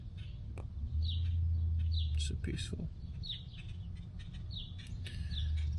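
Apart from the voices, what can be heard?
birds chirping in a backyard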